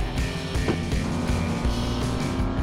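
An engine revs steadily as a toy car accelerates in a Paw Patrol racing game at a water park, a continuous buzzing motor drone, loud and close with no pauses.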